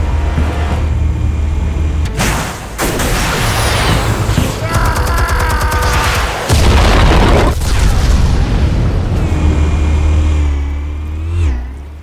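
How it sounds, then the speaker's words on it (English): Armed explosives detonate in Batman: The Telltale Series as a string of heavy, booming blasts and rolling rumbles, loud and close, with crackling bursts between them and a low engine-like roar underneath. "Explosives armed. Fire when ready."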